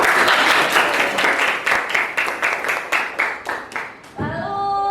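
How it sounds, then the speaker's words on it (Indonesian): A small group in a school guidance classroom claps in unison, about a dozen rhythmic claps that gradually fade and slow before stopping, followed by a brief soft tone. "tepuk tangan dong"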